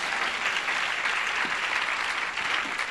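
A church congregation applauding during a sermon, with dense, sustained clapping that fills the room evenly for the whole stretch, close and loud, with no words heard over it.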